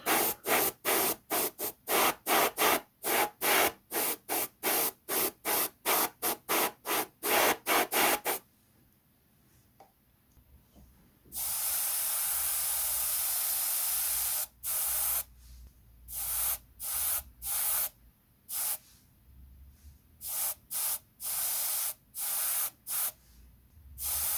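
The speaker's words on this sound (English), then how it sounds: "I'm just going to spray in just a little bit of a" Spray paint hisses from a can onto a model starship in a quick series of short bursts, then one longer continuous spray, followed by more rapid short puffs.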